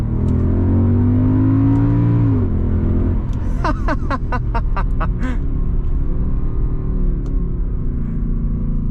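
A 6.2-liter Mercedes CLK63 AMG Black Series engine hums steadily at first, then its tone drops and a run of sharp, rapid pops and crackles follows, the revving loud and close throughout with no talk.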